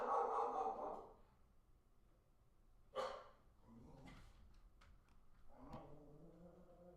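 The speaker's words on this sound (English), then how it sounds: "Sorry, my dog is going nuts here." A pet dog barks and whimpers indoors during a live stock-market chat, a few loud bursts spread across the stretch with quieter breathing and shuffling between them.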